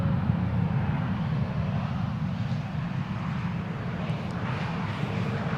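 A Transavia airliner arriving at an airport gives a steady, broad jet roar that stays even throughout, with the low engine rumble heard alone and no talk.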